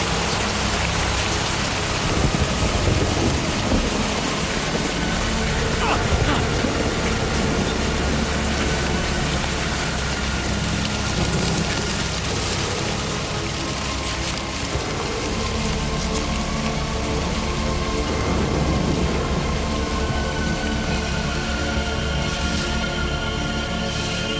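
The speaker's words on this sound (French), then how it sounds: "C'est la pluie à sud! Abritez-vous!" Heavy rain pours down in a dense, unbroken roar, steady and loud throughout with no voices.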